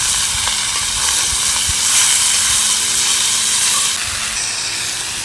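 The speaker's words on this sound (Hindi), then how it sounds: "एक मिनट तक मैंने कढ़ाई में साग को अच्छे से भून लिया है" Mustard-green leaves frying in a kadhai give a loud, steady sizzling hiss that holds throughout, with faint low clatter underneath and no talking.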